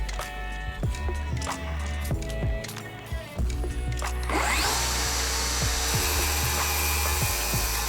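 A power tool whirs with short bursts at first, then a circular saw bites into wood pieces for a modern blanket or toy box, and a loud, sustained cutting roar fills the second half.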